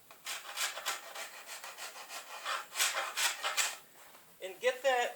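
A farrier's rasp scrapes rhythmically across the bevel of a wooden board bow, stroke after stroke of close, rough rubbing, with a short burst of voice near the end.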